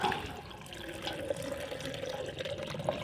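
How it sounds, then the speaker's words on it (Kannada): Water pours steadily into a jug to give to garden plants, a continuous close running-water sound with faint splashes, alone with no talk. "ಜಗ್ಗಲ್ಲಿ ನೀರು ತಗೊಳ್ಳೋಣ"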